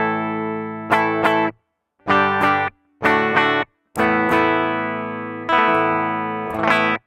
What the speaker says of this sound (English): let's hear the guitar sound right now. Make sure all the pedals is off.